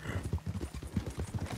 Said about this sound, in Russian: Гуру Бангул, это величайший конь на свете